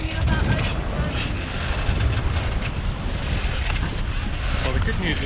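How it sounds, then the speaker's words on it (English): Steady, heavy wind at the ocean roars and buffets across the microphone, with rushing water noise mixed in and no clear break. "the good news is the wind finally came through"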